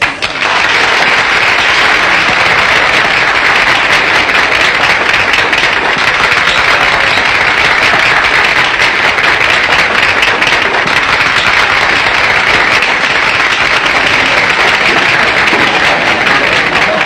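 A large audience keeps up thick, loud, unbroken applause for a long stretch as a singer is brought on to sing, with steady clapping and crowd noise throughout.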